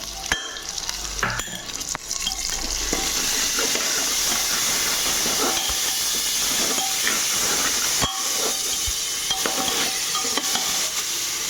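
Ground tomato and green chillies hit frying onions in a pan for Punjabi aloo matar, a loud continuous sizzle and hiss with stirring scrapes close up.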